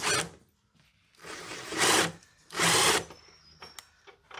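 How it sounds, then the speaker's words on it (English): Three loud bursts of a powered tool spinning as 12 mm bolts on the factory fuel filter of a 200 Series Land Cruiser are loosened, each burst whirring briefly and close, with quiet gaps and faint clinks between. "So now to just loosen off the bolts on the factory fuel filter."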